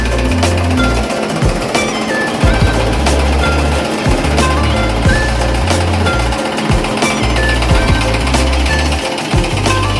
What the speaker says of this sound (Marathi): आपण मशीन चालू करूया आणि कुट्टी बघूया